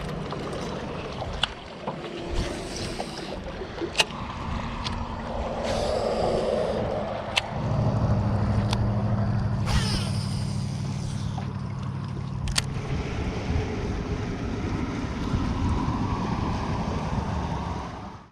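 A fishing boat runs out across Toledo Bend reservoir in East Texas, a steady outboard drone with hull slap and rushing wind noise over the microphone, close and continuous with no talk.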